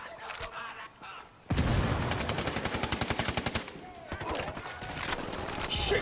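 Automatic gunfire in the video game Ghost Recon Wildlands erupts in a long rapid burst after a short quieter lead-in, loud and close, with scattered further shots toward the end.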